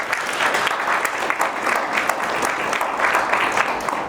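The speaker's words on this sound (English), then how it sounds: "Can you please give them another round of applause?" An audience applauds panelists at a roundtable discussion event, a full, sustained round of clapping from a sizable crowd, loud and even for the whole stretch with no talk over it.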